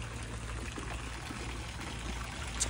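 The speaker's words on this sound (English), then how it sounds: "They have the water flowing over." Water spills over the champagne edge of a pool spa in a Naples, Florida model home, a soft continuous trickle and splash heard steadily at moderate distance.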